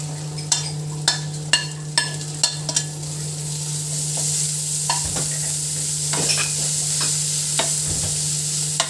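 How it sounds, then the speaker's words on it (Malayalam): Onions and green chilies fry in a pan for a bread bonda snack, a steady sizzle running throughout with sharp scraping stirs clustered early, then occasional clinks and scrapes of the spoon against the pan; no one speaks. "അപ്പോൾ നമ്മുടെ സവാളയും പച്ചമുളകും കൂടിയിട്ടുള്ളത് നല്ലോണം മൂത്തുണ്ട്"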